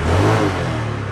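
A tuned motorcycle engine revs under throttle with a steady, loud, close mid-pitched drone. The pitch eases down slightly and holds.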